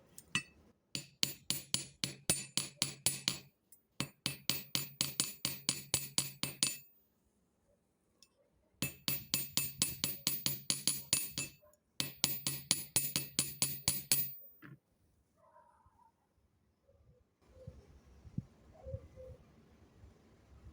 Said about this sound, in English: hammer the ends closed